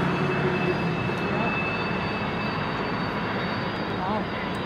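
A train engine crosses a bridge in a steady, continuous rumble with a faint high whine, held at a moderate level throughout.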